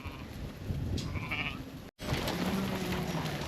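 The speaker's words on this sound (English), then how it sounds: "This is all of our sheep that we've got on the entire farm right here." A large flock of merino sheep held in farm yards, a dense outdoor crowd of overlapping bleats and shuffling at varying distances under steady wind-like noise, with a brief cut midway.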